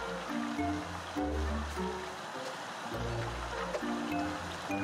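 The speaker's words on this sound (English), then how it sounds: "Back of the waterfall seems very suspicious." A waterfall in Ogu and the Secret Forest rushes as a continuous broad wash of water beneath a looping low melodic game tune.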